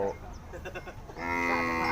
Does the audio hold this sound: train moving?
no